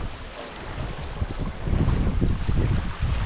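A sailboat on the open ocean, with wind buffeting the microphone and water rushing against the hull in uneven surges, continuous and close, with no talking.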